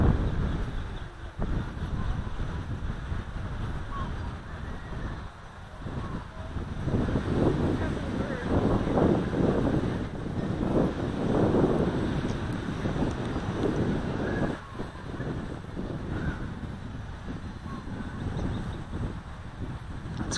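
Gusty Kona wind buffets the microphone outdoors during a small quadcopter's first flight, a loud, continuous low roar that swells and dips throughout without pause.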